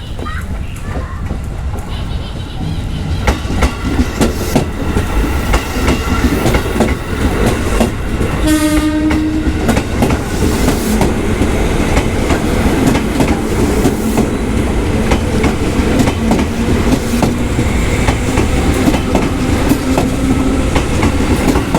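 A KRL commuter train rolls past close by, loud steady rumble and clattering wheels with a short horn blast partway through, continuing strongly to the end.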